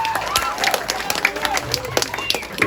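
An audience claps for gamelan musicians at a Balinese comedy stage show, with uneven, sharp hand claps and crowd murmur, while a voice talks over part of it.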